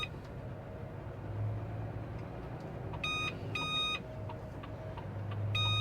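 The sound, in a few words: detector beeping in delivery lorry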